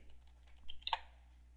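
Password being typed on a computer keyboard at a login screen, a short burst of a few soft key clicks, faint and close, with no talk.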